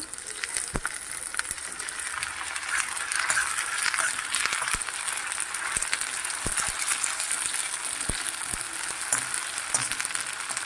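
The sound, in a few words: ginger garlic paste frying and being mixed for veg noodles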